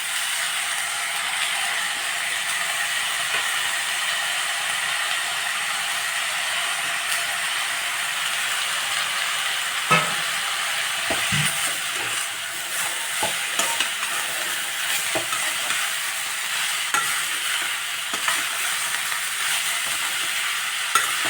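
Grated radish and coconut sautéed in a pan for radish chutney, a steady low sizzle under repeated scraping and clicking of a spoon stirring against the pan, close and continuous.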